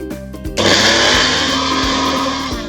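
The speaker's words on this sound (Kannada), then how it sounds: "ಜೀರಿಗೆ, ಕಾಳು ಮೆಣಸನ್ನು ತರ್ತರಿಯಾಗಿ ಮಿಕ್ಸಿ ಮಾಡ್ಕೊತಾ ಇದ್ದೀನಿ" A mixer grinder roars into a loud, steady whir after a quiet start, coarsely grinding cumin and black pepper, then holds its high spinning drone with slight dips until the end.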